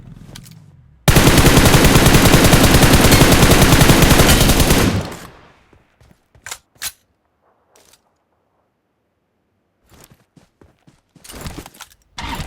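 Loud, close machine-gun fire in PUBG Mobile rattles in one sustained burst of about four seconds. Sparse clicks and faint footsteps follow, then a few more short bursts near the end.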